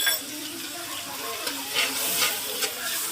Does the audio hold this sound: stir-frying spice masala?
yes